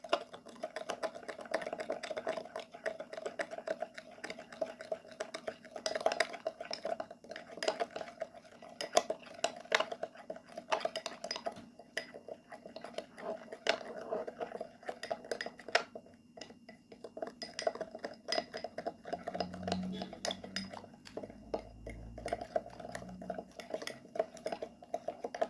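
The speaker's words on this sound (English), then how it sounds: "Now mix well all the ingredients." A spoon clinks and scrapes against a bowl while teeth-whitening ingredients are mixed at home, a quiet, irregular run of light taps and rattles close by, with a few lower knocks near the end.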